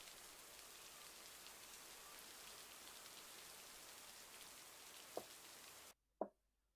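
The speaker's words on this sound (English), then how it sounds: "So the rain stopped and then it started again." Steady rain pours in the video game Lake as a dense, even hiss that runs for about six seconds, then cuts off abruptly, leaving near silence apart from a single soft knock.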